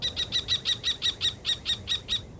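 Wild birds in Iran give a rapid string of about a dozen evenly spaced high chirps, clear and fairly close, over a low steady background with no talking.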